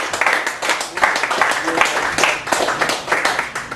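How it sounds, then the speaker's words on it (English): At a poetry open mic in a Chicago cafe gallery, the room gives a raucous round of applause, with dense, loud, sustained clapping that swells and dips throughout. "after that raucous round of applause"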